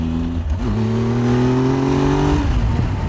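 A car accelerates hard on a country road in the Yorkshire Dales, its engine note climbing in a close, loud, steady drone for about three seconds with no voices.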